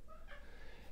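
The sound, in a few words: cat meowing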